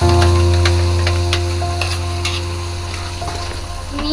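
Chicken frying in ghee in a pan, a loud steady sizzle with intermittent scraping as it is stirred, close and continuous, no voices.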